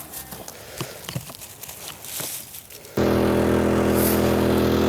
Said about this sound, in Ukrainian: Допоможемо нашій електростанції трошки підживитися від генератора.